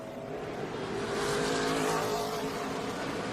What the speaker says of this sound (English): Tyler Reddick braking heavily through the bend left on 15